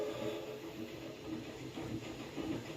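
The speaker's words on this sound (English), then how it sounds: "So why is there a train?" Steady rumbling, hissing train noise from the video game Choo Choo Charles rolls on continuously at moderate level, with no talking over it.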